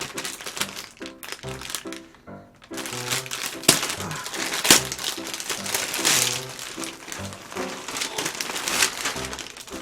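A package of big-size clothes is torn open and its plastic packaging crinkles and rustles in close, busy bursts, with someone talking throughout.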